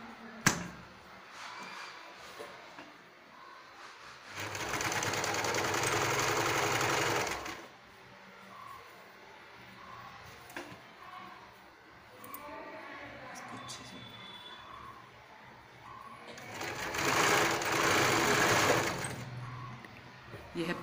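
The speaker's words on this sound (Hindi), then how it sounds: "यह है पूरी सिलाई राउंड में इसी तरह से लगा देंगे" A sewing machine stitches a carry bag in bursts, with loud whirring runs rising and stopping between quieter handling sounds. A voice speaks between and under the stitching.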